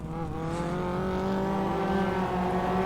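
Hot rod race cars lap at Northampton in a loud, continuous engine drone with layered tonal whines, several cars running close together throughout.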